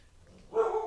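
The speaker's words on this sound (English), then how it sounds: "I'm sorry about the dog again." A dog barks once nearby, a short, moderately loud yap rising out of a quiet room after a brief pause.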